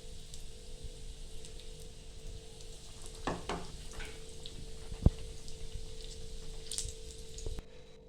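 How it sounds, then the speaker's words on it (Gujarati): Stuffed green chili bhajiya fry in medium-hot oil, a steady soft sizzle with a few wet squishes and stirring clatters, close and moderately quiet, no voices. "મીડિયમ તેલે જ આપણે તળશું."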